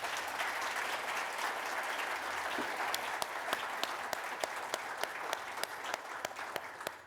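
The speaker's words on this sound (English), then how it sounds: "So let's give this panel a round of applause." Sustained applause from a conference audience for a discussion panel at a regional healthcare meeting, a dense steady wash of many hands with a few sharper individual claps standing out toward the end.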